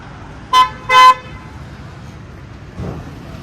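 Two short car horn honks in quick succession, the second slightly longer, followed by quiet road ambience.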